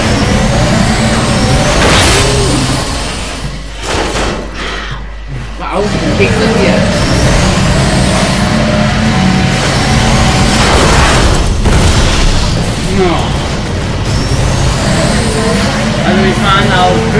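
Cars racing flat out on the Autobahn in Burnout Revenge, with a loud continuous engine roar, heavy booming impacts and a brief dip in the middle, all under lively commentary.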